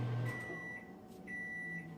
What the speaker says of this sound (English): that's the microwave